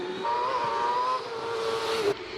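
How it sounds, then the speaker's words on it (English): The Firestorm hillclimb race car with its XD engine screams at high revs at Prescott during the British Hillclimb Championship, a sustained rising and falling wail that cuts off abruptly near the end, with no talking. "Someone was commenting online the delicious sound of the XD engine in the Firestorm, and it is an incredible sound."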